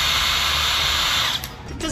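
A hand-held electric drill, pulled on at the trigger, whirs with a steady high motor whine for about a second and a half before spinning down, loud and close with no talk over it.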